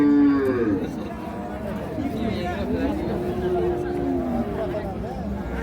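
A cow and calf moo repeatedly at a busy cattle market in Comilla, long drawn lowing calls close by, set against crowd chatter and people talking nearby.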